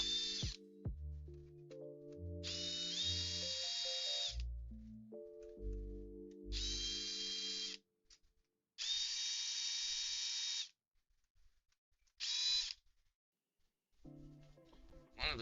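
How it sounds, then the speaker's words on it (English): An electric drill whirs in several bursts of a few seconds each, with steady high motor whine broken by short silences, interleaved with lower tonal beeps and hums, close and clear. "One of the best investments was getting that drill."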